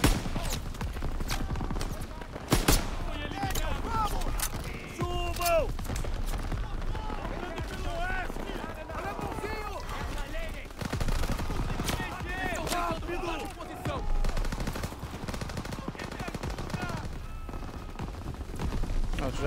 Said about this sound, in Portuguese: Tem uma metralhadora lá em cima.